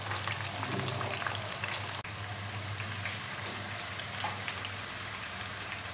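Capsicum browning in a pan for a dhaba-style mixed vegetable dish, giving a steady, even frying sizzle with a faint low hum underneath and one brief tap near the middle.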